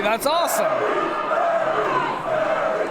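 A wrestling crowd at a CCW Clash event chants for wrestler Kerry, a sustained rhythmic roar of many voices filling the hall, with a commentator speaking briefly over it.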